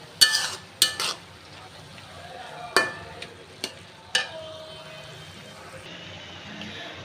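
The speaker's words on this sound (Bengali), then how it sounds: "আমি হলুদ মরিচের গুঁড়ো দিয়ে মিশিয়ে নিয়েছি" Stirring turmeric and chili powder into cabbage in a pan, heard as a few sharp scrapes and clinks of a utensil against the pan spread across the clip, over a faint background sizzle.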